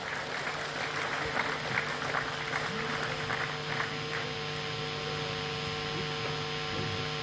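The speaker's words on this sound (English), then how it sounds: "Let's clap a little more for her," Audience applause at a pensioners' stakeholders forum honours the opening speaker. The clapping is steady and moderate, with a light patter, over a constant background hum in a large hall, with no talk.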